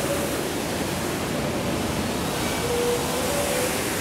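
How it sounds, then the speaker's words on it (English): Water pours into storm drain grates at the south end of a pond where a river once ran above ground, a loud, steady, close rushing roar throughout. "All this water that's entering these grates used to flow above ground as a river."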